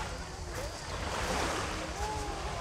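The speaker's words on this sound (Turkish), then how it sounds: "Dalga var ama o kadar şey değil, kuvvetli değil" Gentle sea waves wash in a continuous hiss at Çiftlik Bay, Marmaris, mixed with wind buffeting the microphone, moderately close.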